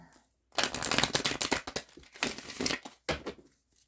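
A deck of tarot cards is shuffled close up in several quick riffling bursts, crisp papery rustles separated by brief pauses, with no talking.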